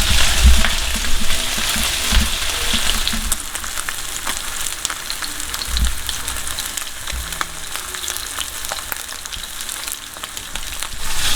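A pork chop frying in a pan over medium heat gives a steady, close sizzle, with soft scraping as it is stirred and moved around. No talking.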